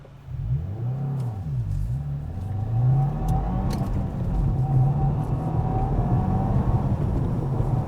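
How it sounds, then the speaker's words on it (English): A 2025 Subaru WRX tS with a manual gearbox accelerates hard, the engine rising in pitch through the revs with a whining, supercharger-like tone and a brief dip at a gear change, loud and continuous from inside the car. "It's got that sort of supercharger whine kind of noise, even though this car isn't supercharged."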